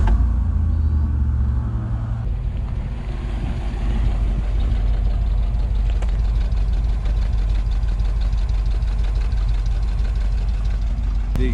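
A 1956 Ford Thunderbird V8 cranks briefly and catches, then settles into a loud, steady, slightly lumpy idle with a deep rumbling exhaust exiting through the rear bumper.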